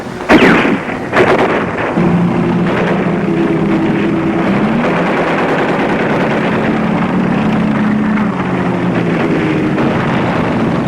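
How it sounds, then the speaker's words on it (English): WWII battle noise: sharp gunshot cracks open the scene, then a dense, loud roar of distant artillery and engine drone rumbles on steadily with no voices. "They are shooting all around us."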